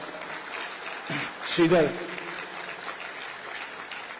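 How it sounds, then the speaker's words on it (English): Applause at an academic convocation ceremony, moderate and somewhat distant, running steadily under a voice briefly speaking over it, with a louder swell in the middle. "Let us join and give a big round of applause."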